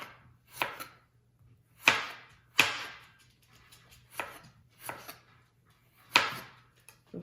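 A knife chops through radish on a cutting board in a home kitchen, six or seven sharp, separate strokes at an uneven pace, close and fairly loud, with a low steady hum underneath and no talk.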